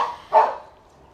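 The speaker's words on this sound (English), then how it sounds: "The dogs are mucking around because it's dinner time." A dog barking at dinner time gives one short, close bark after a brief lead-in sound, then the clip fades to quiet.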